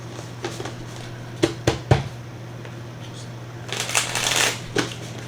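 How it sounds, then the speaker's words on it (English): Tarot cards shuffled by hand in a few sharp riffling bursts, then a longer brighter flurry of card shuffling, close and fairly loud over a steady low hum. "Give me a couple more shuffles for Gemini."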